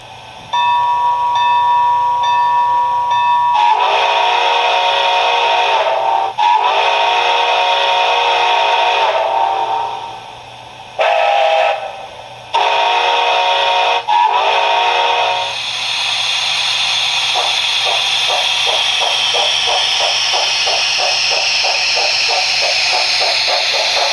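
An ESU LokSound decoder in an ATSF 3751 model steam locomotive plays a loud, sustained chime whistle in several long blasts, then shifts to a rapid, rhythmic hiss of steam chuffs with no talk.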